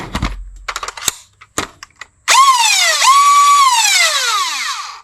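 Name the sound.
foam dart blaster flywheel motors spinning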